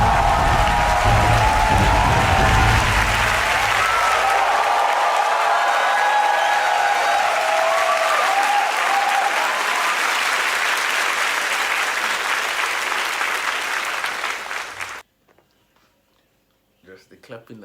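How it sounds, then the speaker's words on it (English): Audience applause after a performance at a televised singing show, a dense, loud wash of clapping that thins out and then stops abruptly near the end, leaving near silence. "Just the clapping alone"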